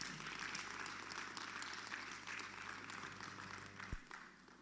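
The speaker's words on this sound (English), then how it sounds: "So I think you deserve a good, resounding round of applause." An audience at the COMFESA North West international symposium gives a round of applause, a faint, even wash of clapping that carries on for several seconds.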